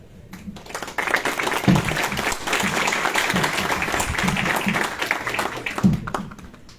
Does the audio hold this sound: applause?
yes